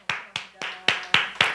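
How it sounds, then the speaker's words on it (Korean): Hands clap at a Sunday church worship service: six sharp, evenly paced claps, moderately faint, with no voices over them. "우리 감사의 박수, 영광의 박수 드리겠습니다"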